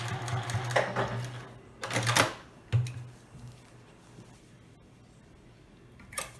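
A sewing machine back stitches fabric in a few short bursts of rapid mechanical clatter separated by quiet pauses, with a final brief burst at the end and no talking.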